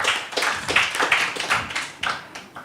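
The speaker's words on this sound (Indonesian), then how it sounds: "Tepuk tangan untuk mereka berempat." A small audience at a religious debate claps for the speakers, sparse, uneven handclaps in irregular bursts, fairly close and moderately loud, with no talk over them.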